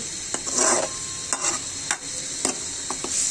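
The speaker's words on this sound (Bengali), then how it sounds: "মশলাটা কষিয়ে নিচ্ছি ভালো করে" Spice paste with onion, garlic and ginger is stir-fried in a pan for a rohu fish curry, with a steady close sizzle and a series of sharp spatula scrapes and taps.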